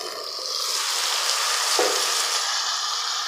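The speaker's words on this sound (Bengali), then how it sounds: "মাছের তেলের মধ্যে আলু দিয়ে ভালোভাবে কষিয়ে নেওয়া হয়ে গেছে এবার আমি দিয়ে দেব বেগুন" Eggplant is added to potatoes already frying in fish fat and oil, giving a loud, steady close sizzle with a brief burst of extra crackle midway. Nobody speaks.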